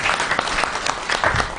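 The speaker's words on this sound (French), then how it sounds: "Si on peut applaudir pour Francine" Audience at a Congolese health and environment awards event claps loudly and briefly, a crowd of hands with distinct individual claps popping out of the wash.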